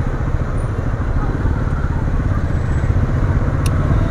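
Motorcycle riding through city streets on Dussehra, its engine a steady low rumble under rushing wind throughout, with a brief faint high beep near the end.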